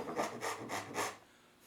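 A hand saw cuts through pine in four even back-and-forth strokes, each a close, breathy rasp, before the sawing stops and it falls quiet.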